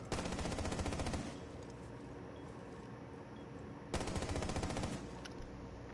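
Two bursts of rapid automatic gunfire from a competitive tactical shooter esports match, loud and dense, separated by a few seconds of quieter game ambience.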